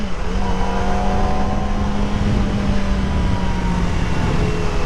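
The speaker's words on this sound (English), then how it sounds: "Oh my God, the sound of this motorcycle." A 2024 Kawasaki Ninja ZX-4RR 400cc motorcycle drones at a high, steady pitch while riding, with continuous engine whine and wind noise and no talk.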